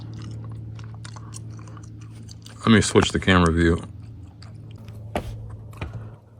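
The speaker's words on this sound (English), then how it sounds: "if you can hear me chewing gum in this video" A person chewing gum, producing soft, irregular wet clicks and smacks over a steady low hum, with a burst of speech in the middle.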